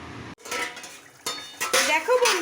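A lid goes onto a pot of mushroom kosha, with a few metallic clanks and scrapes of cookware at close range, separated by short quiet gaps and a soft sizzle underneath.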